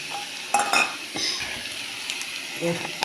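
Turmeric and ginger fry in a pan for coconut kochu shaak, a soft steady sizzle with scattered clinks of a utensil against the pan.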